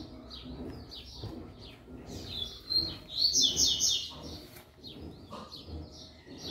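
A small songbird, a caged coleiro or a wild papa-capim, sings nearby in short bright chirps and trills, with quieter bursts before and after, against faint background rustling outdoors.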